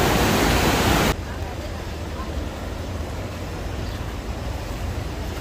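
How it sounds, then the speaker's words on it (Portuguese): A large volume of runoff water rushes downhill after heavy rain in Bezerros, Pernambuco, a steady loud broadband roar that drops slightly in level after the first second and continues without a break, with no voices heard. "Muita água, pessoal, descendo aqui."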